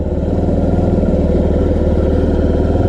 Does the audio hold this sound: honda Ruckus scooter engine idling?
yes